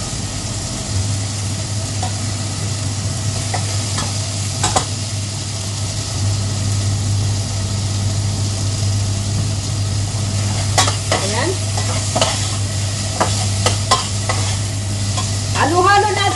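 Bitter gourd with onion and tomato being stir-fried in a pan, with a steady sizzle and scraping stirs throughout and a constant low hum underneath, plus occasional sharper clinks of a utensil near the end.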